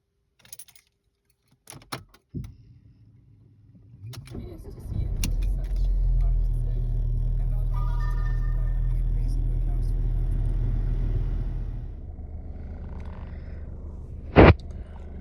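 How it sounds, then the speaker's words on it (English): A car engine cranks and catches after a fresh oil change, then idles steadily and loudly for several seconds before shutting off, with a few clicks and key rattles before and a sharp knock at the end. "good news is the car starts and it still seems to be working pretty well."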